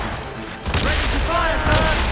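Ship cannons booming in a naval battle in the video game Assassin's Creed Rogue, a dense, loud rumble of fire under shouted voices and battle noise.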